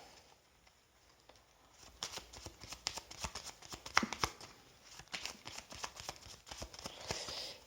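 A 32-card deck is shuffled for a card reading, starting quietly and then building into rapid, crisp riffling and flicking of cards, close up and continuous for several seconds with no voices.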